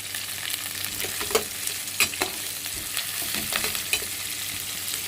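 Curry leaves fry with onions in a pan for Kurnool-style uggani bajji, a close, steady sizzle and crackle broken by scattered sharp pops and stirring scrapes, with nobody talking.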